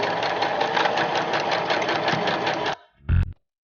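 Sewing machine stitching a hoodie in one steady, loud, buzzing run for nearly three seconds, then stopping abruptly, followed by a short mechanical clunk.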